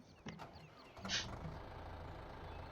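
A tractor engine cranks over on a farm and settles into a steady, low, rumbling idle that carries on at moderate volume.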